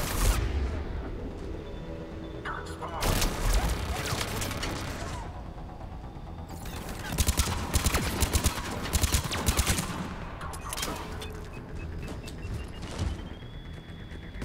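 Automatic gun turrets firing in the sci-fi shooter Mass Effect 3, dense bursts of rapid gunfire and booms in several waves, loud and close, with a voice talking over parts of it.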